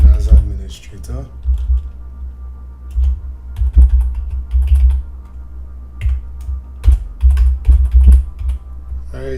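Login credentials typed on a computer keyboard, with quick bursts of close key clicks and taps scattered across a low background hum, and a voice talking briefly at the start.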